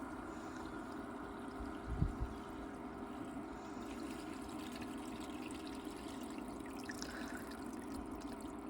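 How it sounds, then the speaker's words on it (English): A Smart Bot 2800 pump runs at a spring water system, giving a faint, steady mechanical hum beneath a continuous trickle of flowing water, with a small knock about two seconds in. "Okay, our pump just now kicked back on automatically."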